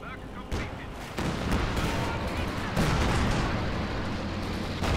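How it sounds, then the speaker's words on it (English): Artillery strikes pound the battlefield in the video game Company of Heroes 2, a dense, loud barrage of booming blasts and crackling gunfire layered over one another, with sharp new impacts breaking through the roar. "Lots of artillery strikes going down."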